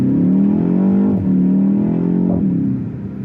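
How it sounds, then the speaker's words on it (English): A steady, synthetic-sounding artificial engine note plays inside a 2024 BMW X1 M35i, rising in pitch with a brief dip and a simulated gear shift, continuous and fairly loud with no talking. "they are using these fake engine notes"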